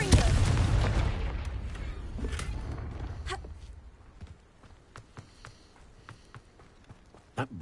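A booming Confringo blast spell goes off in Hogwarts Legacy, a loud explosive burst that decays over a few seconds, followed by scattered footsteps, clacks and a sharp late impact.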